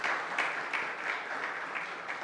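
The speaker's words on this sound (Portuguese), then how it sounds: "Uma salva de palmas." A church congregation claps for new members at a Sunday service, a steady, fairly faint patter of applause lasting a couple of seconds.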